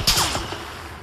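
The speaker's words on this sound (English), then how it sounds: "Getting shot at." Gunfire in the battle royale game PUBG: a sharp close shot bursts out at the start, followed by a quick trailing volley of weaker reports that fade within about a second.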